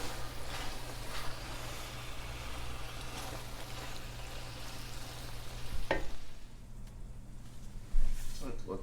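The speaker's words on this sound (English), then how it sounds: "Let that simmer for 10 minutes" Shepherd's pie filling simmers and sizzles in a pan with a soft continuous crackle, broken by occasional stirring and clattering, fairly quiet and close.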